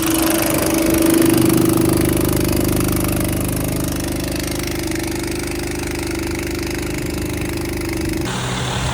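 A steady, loud engine of a Polaris Ranger utility vehicle rumbles and drones continuously at close range, holding a constant idle throughout with a slight drop near the end.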